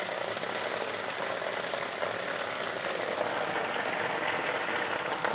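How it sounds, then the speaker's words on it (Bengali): Steady rain falls just outside a room in Bangalore, a dense, even hiss of drops on surfaces that holds constant throughout with no voices over it. "দেখুন বৃষ্টি হচ্ছে আমার রুমের সামনে"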